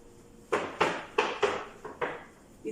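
An old chalkboard being erased, giving about six rough scraping strokes in quick succession, each a short gritty rasp, fairly close and alone with no talk.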